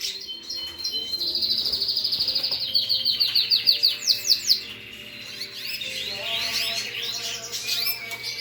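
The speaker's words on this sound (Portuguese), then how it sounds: "São todos canários machos." Several male canaries sing in rapid, bright trills and warbles, with overlapping phrases rising and falling close by, one burst of sharp repeated chirps standing out midway before the chorus settles back into steady song.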